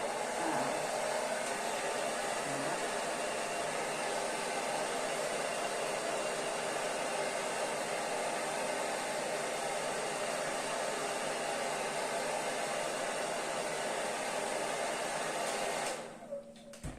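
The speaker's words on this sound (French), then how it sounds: "j'utilise le sèche-cheveux." Hair dryer blowing steadily on aged paper for a junk journal craft, a loud continuous whooshing drone that cuts off near the end.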